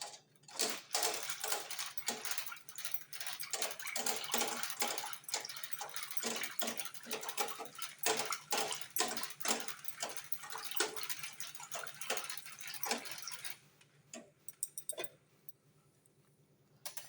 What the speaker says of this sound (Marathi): तर पुन्हा हे आपण चांगलं असं मिक्स करून घेऊ रवीने